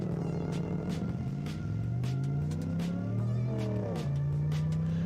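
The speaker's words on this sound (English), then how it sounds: "This is a really awesome looking car, by the way. And the sound of it is so nice. With the supercharger on it as well." A supercharged car engine in a modded video game hums steadily, its pitch climbing and falling through rev changes with a whining tone on top, clear and close throughout.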